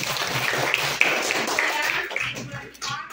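Classroom students clapping together at a teacher's prompt, a quick burst of uneven hand claps at close range, fading toward the end, with a few voices audible among the claps.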